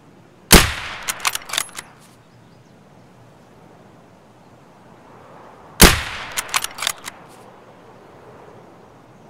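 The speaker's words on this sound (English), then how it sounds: "This is a far shot, even for a Mosin." Two loud, sharp Mosin rifle shots ring out in Escape From Tarkov, several seconds apart, each followed by a short burst of metallic bolt-action clacks, with quiet ambience between them.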